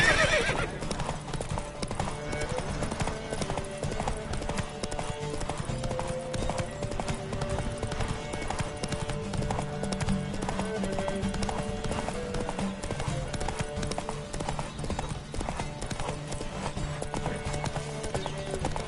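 Rapid hoofbeats clip-clop steadily throughout, several horses running together in a race in The Witcher 3 with occasional whinnies, over a continuous musical backdrop.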